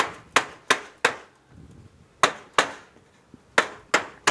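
Copper cladding sheet being bent over an oak block used as a brake, giving a series of sharp, loud metallic knocks in irregular pairs and clusters, close by with no talk.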